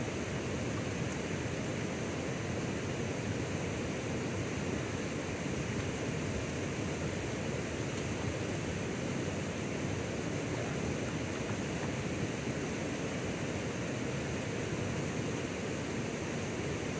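A waterfall roars in a constant, dense rush of water, steady throughout with no other sounds.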